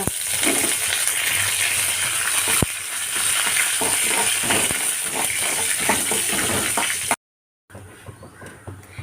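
Dried red chillies and curry leaves, dropped into oil that already holds fried urad dal, crackle in a busy, loud sizzle with small pops, cutting out abruptly near the end.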